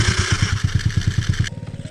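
A homemade go-kart's small engine, still a little cold, revs in a rapid, loud, close-up pulsing chug, then the higher whine drops away as the throttle eases, leaving a steady lumpy idle.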